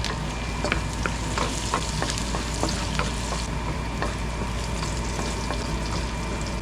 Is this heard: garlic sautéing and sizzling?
yes